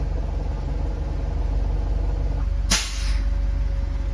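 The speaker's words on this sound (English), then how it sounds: "Once it reaches 120, you will hear the release of air." Air brake on a Blue Bird bus releasing pressure once it reaches 120 psi, a single loud sharp hiss that bursts out and fades over about half a second above a steady idling engine rumble.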